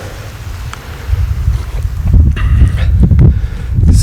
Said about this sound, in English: It's very windy. Heavy wind.